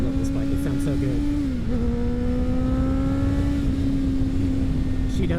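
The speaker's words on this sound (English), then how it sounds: "She does sound so good with that Akrapovic exhaust." Motorcycle fitted with an Akrapovic exhaust, its engine note holding steady with a brief dip and rise in revs, loud and close, running alone.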